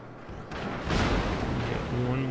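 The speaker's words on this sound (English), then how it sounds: "One more shot off on him before I have to start turning away from this border." The Italian tier-4 cruiser Giussano's guns fire in World of Warships, a single loud booming salvo swelling midway and rumbling off.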